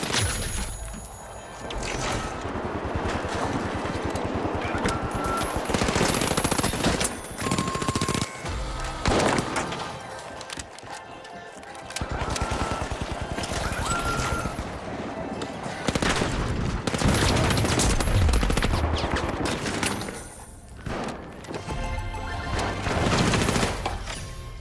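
Rapid MP5 submachine gun bursts in the video game The Finals, loud and dense with crashes and booms of destruction mixed in, firing in repeated stretches with brief pauses between.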